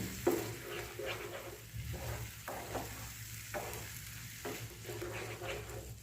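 A ginger-garlic spice paste sizzles in oil in a pan while a spoon stirs it in repeated scraping strokes, a steady close frying sound with no talking.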